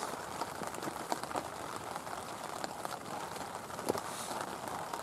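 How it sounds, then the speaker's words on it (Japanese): Steady rain falls during rainy-season camping on Mount Mekubari, a dense even hiss with scattered drips and taps close by, continuous throughout without voices. "雨の音がですね、まあ梅雨らしいっていうかそんな感じがしますね"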